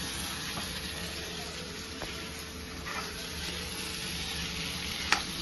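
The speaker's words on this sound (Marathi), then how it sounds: "त्याच्यात त्याला चांगला मस्तपैकी मिक्स करूया आपण." Steady sizzling of food frying in a pan, with soft scraping and stirring noises throughout and a sharp clink near the end.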